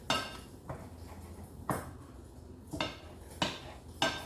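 Spoon stirring heavy whipping cream into mushroom sauce in a pan, a series of about six distinct metallic scrapes and clinks at an uneven rhythm, close and fairly quiet.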